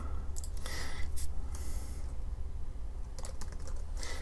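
Keys on a computer keyboard clatter in short bursts as a line of code is typed, quick close clicks separated by brief pauses over a low background hum.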